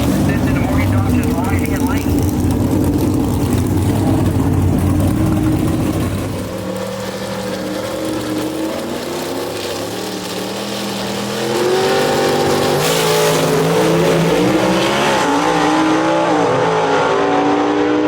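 A 1956 Chevy gasser drag racing down a dragway roars loudly at wide-open throttle, its engine note rising through the run, then fading and swelling again as another car passes, with a race announcer talking over it.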